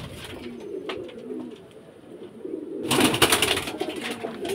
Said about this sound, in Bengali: এই যে খাঁচায় বন্দি করা আছে পায়রামণি, এইসব পায়রামণিকে বিক্রি করা হবে